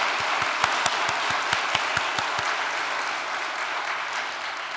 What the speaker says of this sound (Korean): 큰 박수를 한번 올려주시기 바랍니다